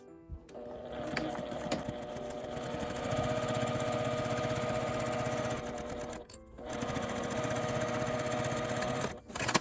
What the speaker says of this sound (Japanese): 1センチの縫い代で縫って表からも端ミシンをかけます。